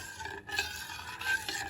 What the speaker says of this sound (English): keep stirring in between